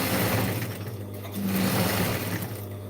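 Sewing machine running steadily as it sews a flat stitch on a denim jeans bag, a close, continuous motor whir with rapid needle chatter and no talking.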